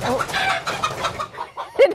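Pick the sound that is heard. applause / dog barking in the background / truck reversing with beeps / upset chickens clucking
upset chickens clucking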